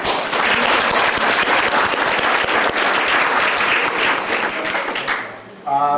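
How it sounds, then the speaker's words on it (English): Audience applause at a Cub Scouts ceremony, a dense, loud, continuous wash of clapping that goes on for several seconds and then dies away abruptly near the end. "Can we give them a round of applause?"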